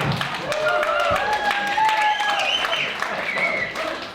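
Sparse, half-hearted clapping from a small audience at a smart meter talk during a State Attorney General office visit in Fairfield, Iowa, partly under a man's speech.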